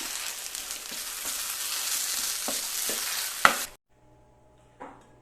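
Onam special sweet curry sizzles loudly in a pan while a spoon scrapes and taps through it; the frying cuts off abruptly near the end, leaving near silence and a faint clink.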